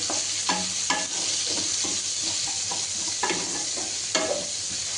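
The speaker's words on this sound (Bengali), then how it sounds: "পেঁয়াজগুলো আমি বেশ ভালো করে লাল লাল করে ভেজে নেব।" Onions fry in a pan to a deep brown, with steady loud sizzling and repeated scraping strokes of a spatula stirring close by.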